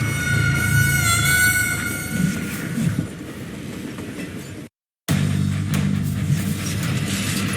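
Train ride in the Western video game Call of Juarez Gunslinger: a loud steady rumble of rattling carriages with high whistling squeals early on, cut by a brief silent gap before the rolling resumes.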